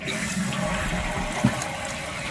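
Household toilet flushing and refilling in working order, a steady gushing, rushing water sound with a gurgling swell near the middle, continuous and close.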